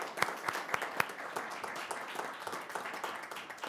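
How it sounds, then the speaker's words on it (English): A city council meeting audience applauds students with a fairly quiet round of clapping, a few sharp distinct claps standing out at first before settling into a softer, scattered patter. "we do want to give them a round of applause"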